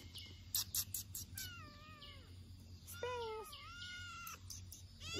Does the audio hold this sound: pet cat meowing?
yes